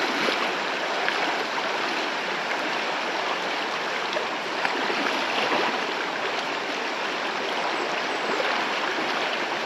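Steady rushing water of a flowing river stream at a camping valley, broad constant noise filling the whole stretch, close and loud with no voices heard.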